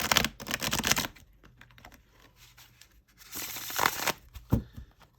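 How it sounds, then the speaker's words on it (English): A linen-finish cardstock tarot deck with shiny gold edges being shuffled by hand, giving close, crisp bursts of riffling and card flutter, with a quieter stretch in between. "This deck is lovely to shuffle. Oh, I love linen cardstock for the shuffle."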